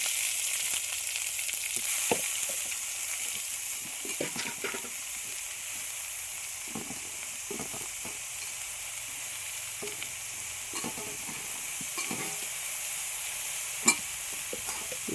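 Spinach from a home kitchen garden is stirred and fried in a pan for a thoran, giving a loud, steady sizzle with recurring scraping stirs throughout.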